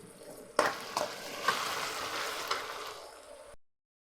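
Sizzling in a pan as tomato paste is sautéed, with a few sharp stirring scrapes and clanks, close and continuous, then cutting to silence.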